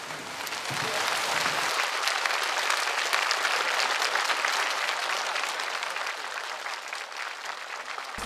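Audience applause welcoming a singer onto a televised singing competition stage, a loud sustained wash of clapping from a large crowd lasting several seconds.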